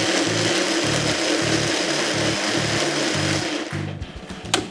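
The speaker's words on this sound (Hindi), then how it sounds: "इसको ब्लेंड करते हैं अब" An electric blender whirring through makhani sauce ingredients for a fish handi, a steady loud drone pulsing in short regular bursts, near and continuous, then easing off at the end.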